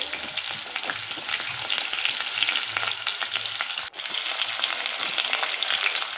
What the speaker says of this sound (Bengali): তো এবার আলুগুলোকে আমি লাল লাল করে ভেজে দেব।